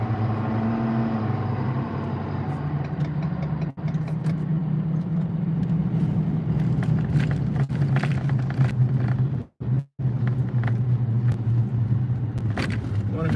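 Car interior road rumble while driving, a steady low moderate drone with a few brief dropouts, no talk over it.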